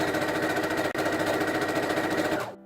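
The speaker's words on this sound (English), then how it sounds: "just sewing the pleats so that way they stay together when you're using them without the tape." A sewing machine stitches down pleats in fabric for a cosplay tunic, running close and loud in a fast, even mechanical chatter with one brief hitch, then slowing and stopping at the end.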